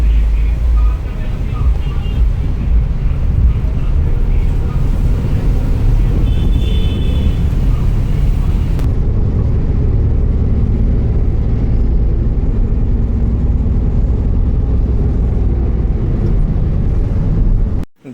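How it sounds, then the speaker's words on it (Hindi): A cab rolls slowly and smoothly through Delhi traffic toward New Delhi railway station, filling the cabin with a loud, steady rumble of engine and road noise that runs unbroken until a sudden cut at the end. "आप देख रहे हैं कि स्मूथली मेरी कैब जा रही है, धीरे धीरे"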